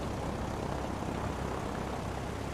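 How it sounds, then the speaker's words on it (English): A physics-based airplane's engine in a video game hums as a steady, broad drone for a couple of seconds, fairly quiet and unbroken, with no voices. "It's like a proper physics-based plane."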